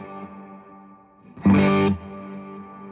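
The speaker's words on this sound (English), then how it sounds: "you can hear that's got a lot more Verb on it" An electric guitar note rings out through a delay pedal with heavy reverb, swelling into a washed-out, heavily reverberant tone that lingers before fading.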